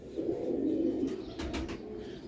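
Pure old-breed Sialkoti pigeons coo softly on a rooftop, a low, rolling purr that goes on steadily, with a few faint brief rustles or flutters toward the end.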